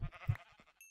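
Sheep in a video game bleating twice in quick succession, short wavering calls heard close and alone.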